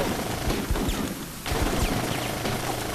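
A squad fires in the combat video game Full Spectrum Warrior, loud sustained automatic gunfire rattling in dense bursts with a brief dip partway through.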